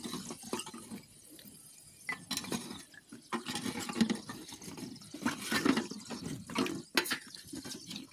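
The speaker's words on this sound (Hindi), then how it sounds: "वैसे साउंड आ रहा है मिट्टी का पानी में डालने से" Clay pots and cups from a local market are set into water, producing irregular splashes, gurgles and soft knocks of earthenware in a basin, close and intermittent.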